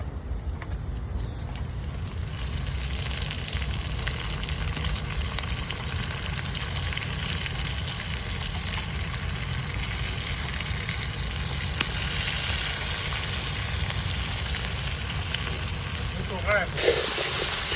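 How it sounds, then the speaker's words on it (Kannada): Steady, loud sizzling of onions browning in hot oil in a pan runs throughout, with occasional scrapes of stirring. "ಈರುಳ್ಳಿ ಎಲ್ಲ ಬ್ರೌನ್ ಆಗ್ತಾ ಇದೆ ಇವಾಗ ಶುಂಠಿ ಬೆಳ್ಳುಳ್ಳಿ ಪೇಸ್ಟ್ ಹಾಕ್ತಾ ಇದ್ದೀನಿ"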